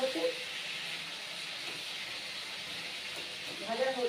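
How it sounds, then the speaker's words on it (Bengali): A steady, moderate sizzle of pointed gourd frying in a pan, with brief voices at the very start and end. "পটলগুলো ভাজতে থাকে"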